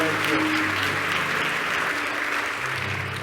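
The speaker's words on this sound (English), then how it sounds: "Let's give him a round of applause." A church congregation at St. Joseph AME Church claps at a Sunday gathering, a dense, steady round of applause from many hands that carries through the whole moment and eases slightly toward the end.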